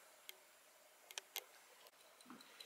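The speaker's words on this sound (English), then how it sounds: "It's ticking very strongly." A cleaned and lubricated Schatz Maritime 8-day, 7-jewel clock ticks with faint, sharp clicks spaced unevenly across a quiet room.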